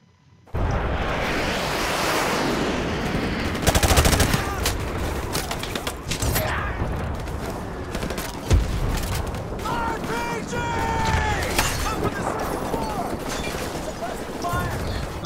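Dense, continuous gunfire fills a Call of Duty: Modern Warfare Remastered campaign battle on Veteran difficulty, with overlapping shots, booms and mechanical clatter running nearly throughout and a few sharper loud cracks.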